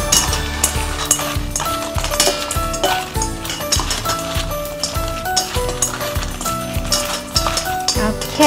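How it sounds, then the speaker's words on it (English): Fried sweet potato wedges being tossed with pepper at a Taiwanese street food stall, giving a steady, busy clatter of metal utensils scraping and clinking against a pan or bowl with no pauses. "some pepper and then mix it."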